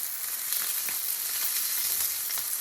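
Steady, dense sizzling of a sesame-crusted ahi tuna steak frying in a hot pan, continuous and close, with a few faint clicks and pops through it.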